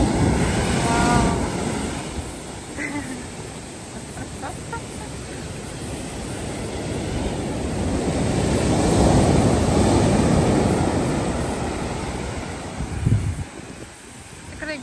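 Sea waves roll in as broad, washing surges that swell and recede, heavily buffeted by wind on the microphone, with people talking over them.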